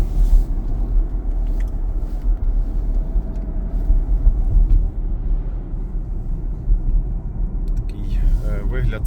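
A 2021 BMW iX3 electric car (80 kWh, 210 kW/286 hp, 79,000 km) driving, heard from the cabin as a low, steady road rumble under continuous talking.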